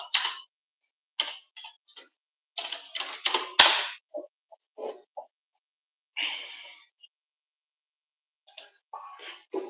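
Bursts of close, crisp clicking from a computer keyboard as a search term is typed, quick clustered keystrokes separated by short silent pauses, with no speech over it.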